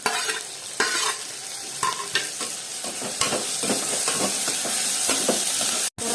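Vegetables such as carrot and potato fry with tomato in a pan for vegetable uppittu, a dense continuous sizzle and hiss punctuated by scraping stirs of a ladle, close up and loud, with no voices.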